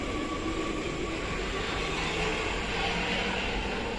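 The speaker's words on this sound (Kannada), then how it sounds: "ಮೆಟ್ರೋ ನೋಡಿ ಹೇಗೆ ಹೋಗುತ್ತೆ." An Amsterdam metro train passing at a station in the Netherlands, a continuous loud rumbling roar of wheels and carriages that holds steady throughout, with no voices.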